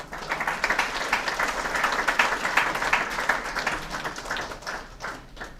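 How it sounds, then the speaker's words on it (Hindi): Applause from a seminar audience for a participant, a burst of brisk clapping that swells and stays lively before gradually thinning toward the end. "नीरज जी के लिए जोरदार तालियां।"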